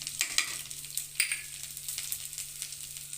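Green chillies and curry leaves sauté in a pan for sago upma, giving a soft, steady sizzle with a few light stirring scrapes over about three seconds, with no voices.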